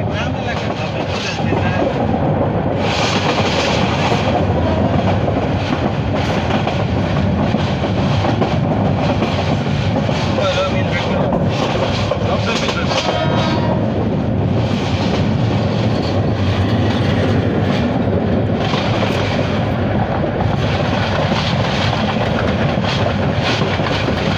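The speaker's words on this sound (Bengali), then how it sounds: "ইতিমধ্যে পুবাইল রেল স্টেশন পাড়ি দিচ্ছে কাঙ্ক্ষিত ট্রেনটি।" The Egarosindhur Provati intercity train rumbles through Pubail railway station with continuous rattling and clickety-clack of wheels on rails, loud and sustained throughout, with faint voices underneath.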